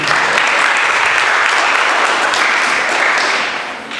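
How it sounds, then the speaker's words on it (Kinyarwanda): Audience applause at a talent show, loud sustained clapping from a crowd for about four seconds, fading slightly at the end. "umukomere amashyi nawe"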